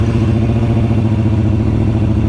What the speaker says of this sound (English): I'll do a wheelie for you guys, one sec.